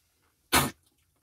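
A dog gives a single short, harsh cough after eating grass, close by and loud against an otherwise quiet room.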